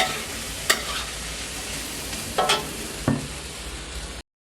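Potatoes being stirred in a pan of spaghetti sauce: a steady low sizzle with a few sharp scraping strokes of the spoon, close and moderately loud, no talk.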